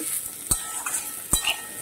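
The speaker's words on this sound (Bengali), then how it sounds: "এঁচড়গুলো খুব ভালো করে ভেজে নেব" Steady sizzling of unripe jackfruit pieces frying in a pan, with a few sharp stirring scrapes cutting through the crackle.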